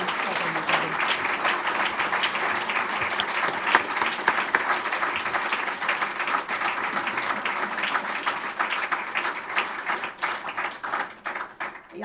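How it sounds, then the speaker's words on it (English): An awards ceremony audience applauds warmly, a dense, sustained wash of many hands clapping that thins into scattered claps toward the end, with a voice briefly audible. "I think the warmth of applause says it all, Kevin"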